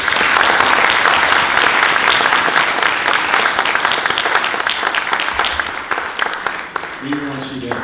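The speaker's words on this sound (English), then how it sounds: "Let's give them a round of applause." An audience at an affordable housing town hall applauds loudly with dense, sustained clapping that fades a little toward the end.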